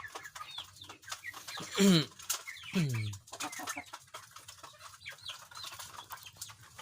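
Brown Dekalb chickens cluck nearby, with two louder drawn-out squawking calls early on, followed by softer scattered clucks and background chatter.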